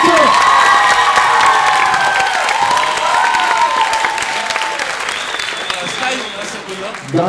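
Theatre audience applauding after a performance, loud sustained clapping with cheers and shouts from the crowd, close and lively, tapering slightly toward the end.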